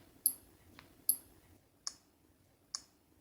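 Short electronic screen lock clicks from a Samsung Galaxy S25 on One UI 7, four of them in alternating pairs of higher and lower tones, crisp and close in near silence.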